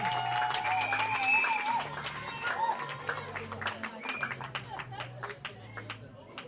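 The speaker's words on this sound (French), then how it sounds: "Sous vos applaudissements" Guests at a customary wedding ceremony clap after a presentation, a loose crowd applause under an announcer's voice and background music, the claps growing more distinct toward the end.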